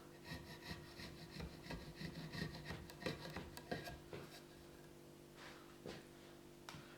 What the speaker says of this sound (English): Now what we need to do is clean off the glue that you can see along here with the chisel.